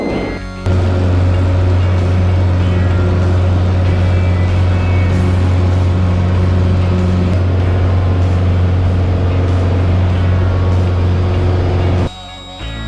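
A Piper Arrow's engine drones loud and steady with a deep, constant hum throughout a takeoff from runway 34, starting abruptly and cutting off near the end.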